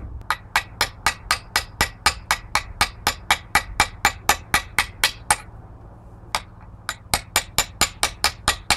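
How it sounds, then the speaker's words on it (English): A homemade chisel is struck by a hammer to tidy a design ground into steel for a hand-forged rapier, a rapid even train of sharp metallic taps, close and fairly loud, with one brief pause before the rhythm resumes. "After grinding the design into the steel, it was tidied up using a homemade chisel."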